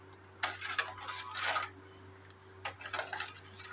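A spoon stirs a green tamarind rasam mixture with salt in a metal pot, making faint intermittent clinks and scrapes in two short bursts over a low steady hum.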